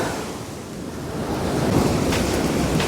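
Waves wash onto the Black Sea shore at Chornomorsk, a steady broad surf that swells slightly louder partway through, with wind noise on the microphone.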